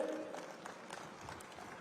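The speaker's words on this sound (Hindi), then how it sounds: "आदिवासी भाइयों बहनों ताली बजाइए" Tribal villagers in an outdoor audience clap for the Chief Minister, a faint, steady patter of many hands heard from a distance that holds at an even level throughout.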